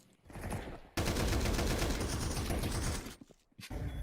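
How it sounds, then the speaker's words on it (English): Heavy, sustained gunfire fills a tactical shooter match, a dense burst of shots running about two seconds after a short lead-in, then a brief lull before firing resumes close and loud. "Blind headshot onto Marky"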